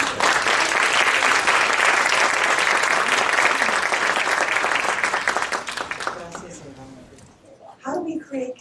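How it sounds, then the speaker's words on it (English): An audience at a university presentation gives a round of applause for a visiting scholar, with dense, loud, sustained clapping that thins and fades out over the last couple of seconds, followed by a voice starting to speak. "Let me ask you to give a round of applause for a visiting scholar in UTEP."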